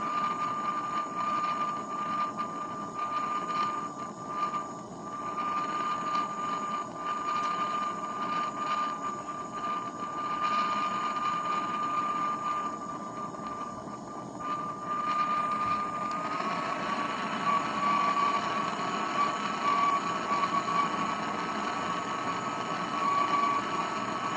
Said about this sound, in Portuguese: Você pode distanciar o maçarico se estiver muito perto.